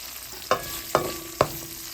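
Onion goes into a pan of frying garlic and curry leaves: a steady close sizzle broken by three sharp, ringing metallic clinks at even intervals.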